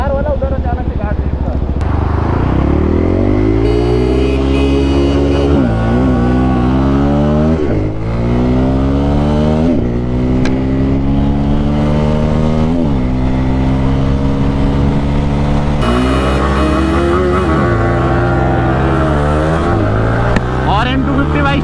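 Two motorcycles, a 2026 Yamaha R15 V4 and a 2026 Pulsar N250 with a 250 cc engine, roar loudly and close in a drag race, their engines climbing repeatedly through rising revs with a drop at each gear change.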